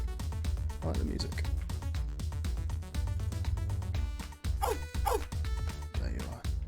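A creature in the video game Good Dogs, apparently a cat, gives sharp yipping barks in a quick cluster over steady game music, with a voice talking alongside.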